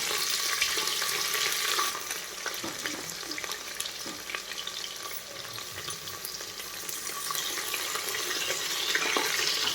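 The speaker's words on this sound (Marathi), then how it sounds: "तो कांदा टाकून घेते." Chopped onion goes into hot oil with whole spices for a Karnataka-style vangi bhath, a loud, continuous sizzling hiss with faint stirring scrapes, close and steady throughout without any voices.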